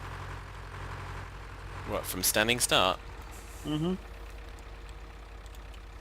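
In Farming Simulator 2013, tractor engines idle as a low, steady rumble throughout, while voices speak briefly over it in the middle.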